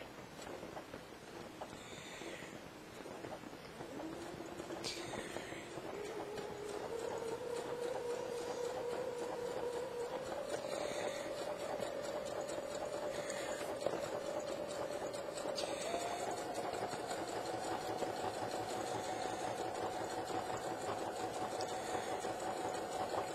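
A home sewing machine top-stitches a seam to reduce bulk in a transitional seam, its steady motor whine rising in pitch in a few distinct steps as the stitching speeds up, running continuously and fairly close.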